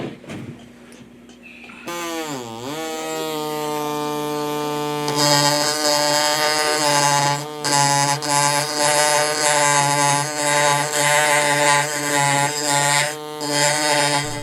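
Compressed-air tool used to prepare fossil fish at a lake quarry, starting with a few clicks and then running as a sustained, strongly tonal whine that shifts pitch and sputters briefly, loud and close with no talking.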